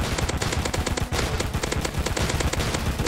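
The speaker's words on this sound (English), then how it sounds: "Okay, keep shooting, guys, keep shooting." Rainbow blaster weapon firing in Roblox Zombie Attack, a rapid, steady stream of loud repeating shots with a brief dip near the middle, dense and continuous throughout.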